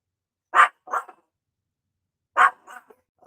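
A neighbor's dog barks twice in pairs, each a sharp bark followed by a softer second one, with silence between, fairly close and alone.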